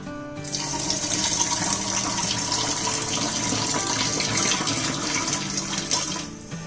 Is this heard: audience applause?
no